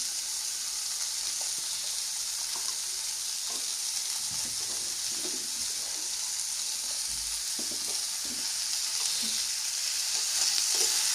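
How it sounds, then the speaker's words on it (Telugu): Mango and cashew curry, Andhra style, cooks in a pan with a steady, fairly loud sizzle. Soft, uneven scrapes and clicks of stirring run through it the whole time. "మళ్ళీ కలుపుకుంటున్నానండి"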